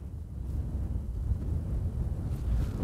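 Wind buffets the microphone on a golf course at Barnard Castle in January, a constant low gusty rumble with no other sounds and no talk.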